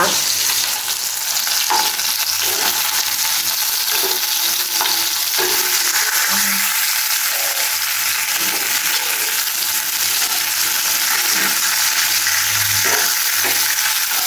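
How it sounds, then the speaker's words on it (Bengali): Hilsa fish frying in a pan at midday gives a steady, loud oil sizzle that fills the whole stretch, with occasional soft scrapes and clinks of stirring and no voices. "দেখেন ইলিশ মাছ ভাজতেছি দুপুরবেলা, ইলিশ মাছ ভাজা, বেগুন ভাজা।"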